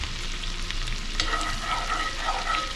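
Garlic and green onions frying in hot oil give off a dense, steady sizzle and crackle that holds close and loud throughout, with a brief scrape partway through and no voices.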